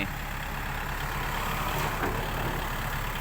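A dump truck tipping soil at a fill site, heard as a faint, steady engine drone with broadband rushing noise and no talking.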